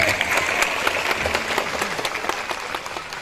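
An audience claps loudly and steadily, a dense crowd applause that holds evenly throughout without letting up.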